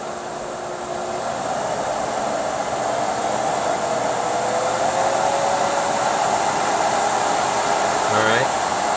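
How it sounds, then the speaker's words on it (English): Canister-style vacuum cleaner running at maximum power and suction, a loud, steady high-pitched whine and airflow rush that holds constant throughout with no talk. "so the machine is at maximum power"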